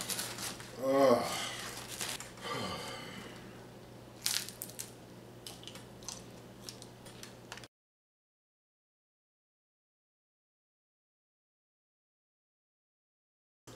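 Crisp crunching bites of a hard-shell Doritos Locos taco, a couple of loud crunches followed by softer chewing, close up, then abrupt silence.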